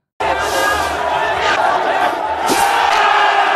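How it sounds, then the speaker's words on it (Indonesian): A crowd gathered around a cobra snake show at a construction site in a James Bond film scene shouts and clamours continuously, a loud, dense wall of voices with occasional louder yells. "di sebuah lokasi konstruksi yang sedang ada kerumunan pertunjukan ular kobra"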